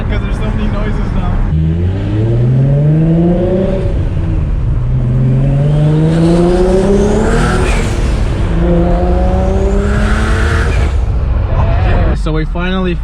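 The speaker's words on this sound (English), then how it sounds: "It actually sounds sick with the blow-off valve because there's so many noises now." Single-turbo Nissan 350Z with an HR engine and a blow-off valve revs loudly and close up, rising in pitch through several pulls with whooshing turbo whistle and valve release between them, over a constant heavy engine drone.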